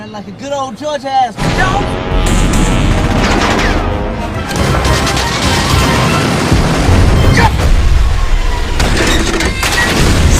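Heavy gunfire and explosions from the WWII aerial combat film Red Tails (2012), where fighter planes strafe a train: a dense, loud barrage of rapid shots and booming blasts with a narrating voice talking over it throughout.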